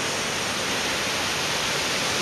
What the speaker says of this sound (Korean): 폭포 소리도 아주 우렁차고 멋집니다.